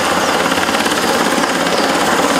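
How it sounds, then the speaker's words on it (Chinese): A rescue helicopter flies overhead at an earthquake-hit rail station where a train derailed, with a loud, continuous rotor thump and engine whine filling the whole stretch and no talk. "救援直升机也出动协助"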